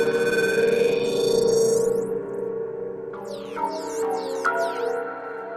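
A Behringer DeepMind 12 synthesizer patch with short decay holds a bright sustained chord, then as the mod wheel rises the unison detune and reverb swell into swooping, chorused pitch sweeps, loud and alone with no talking.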